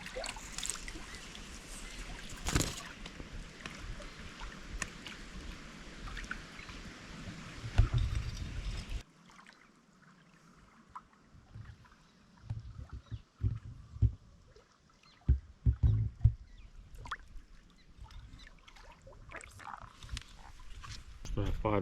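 A kayak paddles on Lake Ladoga, with uneven paddle splashes and water sloshing close by against steady outdoor noise.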